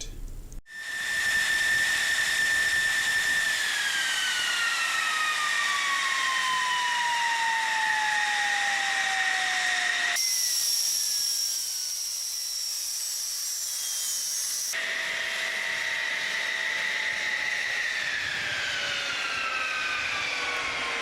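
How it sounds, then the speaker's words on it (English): An F-16 fighter jet engine winding down after shutdown at Kadena Air Base, Japan: a loud, steady whine and hiss with high tones gliding slowly downward over twenty seconds, close and continuous with no talk. "that's my wingman's airplane that you hear. My airplane's already shut down, and my wingman's is now shutting down"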